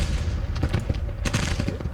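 Civil War troops firing muskets in a strategy video game, a rapid crackle of overlapping shots forming a dense distant fusillade.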